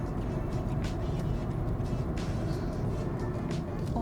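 A car leaving the German autobahn on an exit ramp, its steady engine and road rumble continuous and fairly close, with no talk over it.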